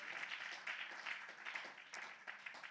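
A church congregation claps during a Spanish-language sermon, a quiet, continuous patter of many hands heard from some distance, sustained for a few seconds without voices.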